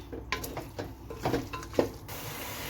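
A spoon stirs a tomato mixture in a cooking pan while preparing Arabian chicken majboos, giving soft scraping and clinking strokes over a low sizzle, close and fairly quiet, with no talking.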